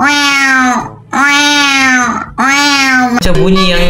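A human voice imitates a cat's yowling mating call, giving three long, loud, wavering caterwauls close by with short breaths between them, and a brief break at the end.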